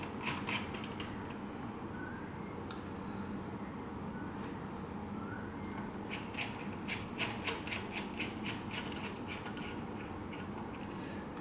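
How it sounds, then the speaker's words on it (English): Screws going back into the underside of a Lenovo Ideapad 330S laptop after a hard disk upgrade, heard as faint creaking, ticking mechanical sounds with a cluster of small clicks near the end over steady background hiss. "it's simply a case of reinserting the screws as they came out"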